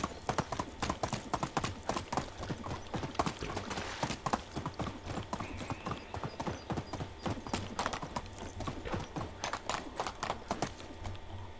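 A horse's hooves clip-clop rapidly in the medieval survival game Medieval Dynasty, a steady galloping patter of fairly quiet thuds running throughout under a faint background.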